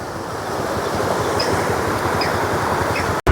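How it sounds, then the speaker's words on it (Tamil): Floodwater in Jaffna rushing through a channel as a continuous, loud, dense roar that holds steady throughout and cuts off abruptly at the end. "இதால் எப்படி போகுதுன்னு பாருங்க தண்ணி."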